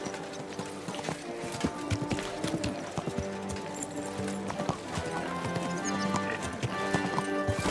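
Horse hooves clip-clop steadily in Kingdom Come: Deliverance II, a medieval setting, with a brief whinny and faint background music throughout.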